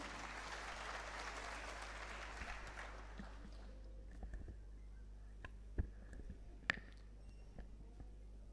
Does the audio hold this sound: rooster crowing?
no